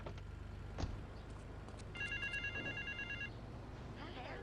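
A telephone rings in Grand Theft Auto III on PS5, a run of rapid trilling electronic rings lasting over a second, mid-level beneath game ambience and radio chatter.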